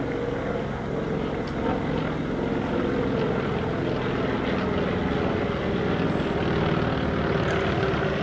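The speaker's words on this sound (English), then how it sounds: "under the designation FM-2 Wildcat. The Wildcat and the Dauntless." FM-2 Wildcat and Dauntless WWII propeller planes passing overhead at a VE Day ceremony, a loud, continuous broad engine roar that holds steady throughout.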